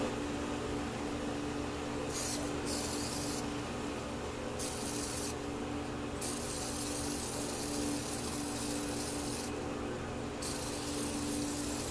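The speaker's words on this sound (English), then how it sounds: "Spray a little easy off in there." Several bursts of hissing Easy-Off oven cleaner aerosol spray into a water dispenser, short and long, over a steady low mechanical hum.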